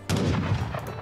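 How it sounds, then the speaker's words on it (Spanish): Gunfire in the Age of Empires Definitive Edition video game, during a United States campaign: a sudden loud volley of shots that rolls into a dense crackling rumble, fading slightly over about a second. "Porque no llegan, pero les podemos disparar."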